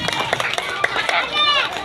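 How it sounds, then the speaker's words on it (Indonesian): Children at an elementary school storytelling session clap for Pak Ade, a dense burst of quick hand claps mixed with crowd chatter and a voice speaking over it. "Kasih tepuk tangan dulu buat Pak Ade"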